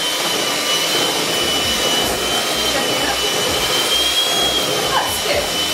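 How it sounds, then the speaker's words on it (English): An electric whisk beats butter for chocolate buttercream icing with a steady, loud, high-pitched motor whir that holds unbroken throughout. "So if you would like to whisk that until it's pale and creamy"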